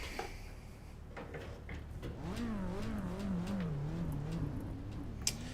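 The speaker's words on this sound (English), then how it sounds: "Listen to that four-banger." A four-cylinder car engine in the Assetto Corsa EVO racing game revs up and down in a steady, wavering drone that rises and falls over a few seconds, heard up close over a constant low hum.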